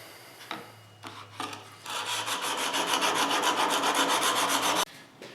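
A chisel held in a sharpening jig is ground on a sharpening stone, making a steady rasping scrape that swells into continuous rhythmic back-and-forth strokes and then stops abruptly, close and loud.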